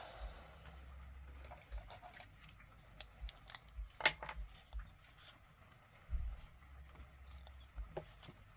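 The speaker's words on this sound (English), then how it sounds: "we're going to trim all of that off of the sides." Scissors trim the sides of a stamped card in a few quiet, crisp snips scattered among soft paper rustles, close but faint against a low room hum.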